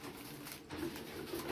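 Pigeons arriving to eat food scattered for them give faint, low cooing calls, a couple of soft coos rising above a quiet, steady background hush.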